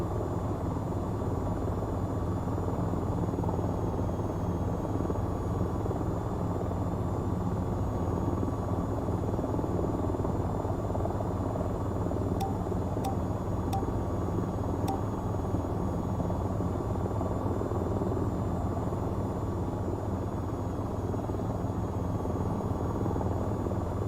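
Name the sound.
attack helicopter flying in VTOL VR video game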